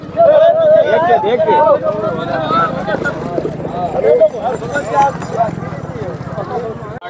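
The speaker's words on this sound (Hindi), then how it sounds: "घोड़े की रेस चल रही है" Galloping horses race at the Dewa Mela horse market, their clip-clop hoofbeats steady beneath loud, continuous talk and crowd babble.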